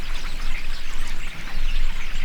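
A noisy flock of small birds calls together in dense, overlapping chirps and chatter from trees at a desert oasis in the Owyhee region, filling the air steadily and fairly close by.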